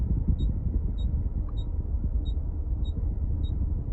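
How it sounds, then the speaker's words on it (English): Steady, evenly spaced electronic beeps from a 2017 Toyota Tarago's rear parking sensors, repeating about every half second over a low engine hum while reversing close to an object. "That beeping there is just simply those rear sensors because we're nice and close to something"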